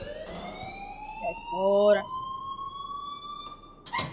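A school alarm in the video game Life is Strange sounds as a steady rising electronic siren tone that holds throughout, with a voice speaking briefly partway through and a sharp burst near the end.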